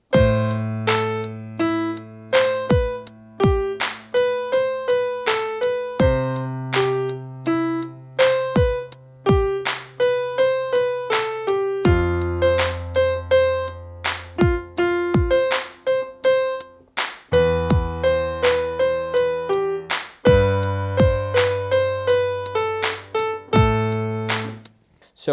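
Piano plays a song with both hands, steady chords and melody notes struck together in a clear, even rhythm, close and alone with no talking.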